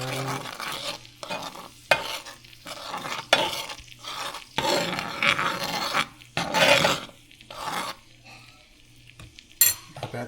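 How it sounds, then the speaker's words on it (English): Metal spoon scraping and stirring a smoked paprika sauce in a hot pan, with repeated bursts of scraping and a soft sizzle underneath, close and fairly loud, no voices. "Stir it."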